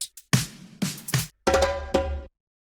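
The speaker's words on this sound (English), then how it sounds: "So this is reggaeton filler and this is a trap filler" Reggaeton and trap drum fills play back to back in punchy bursts, with two faint taps, three sharp hits, then two longer booming ringing strikes, then silence.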